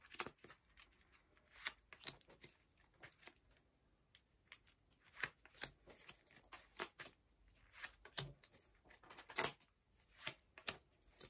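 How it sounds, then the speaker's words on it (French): Tarot cards drawn one by one for a reading make a quiet, close run of light snaps, slides and taps in an irregular rhythm, with no talking over them. "on tire 5 cartes pour compléter ce tirage."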